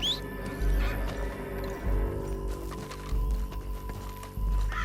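Horse hooves clip-clopping in the Red Dead Redemption 2 video game, a steady trotting beat of thuds with a whinny at the start, over a low mechanical drone and faint background clatter.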